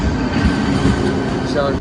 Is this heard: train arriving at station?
yes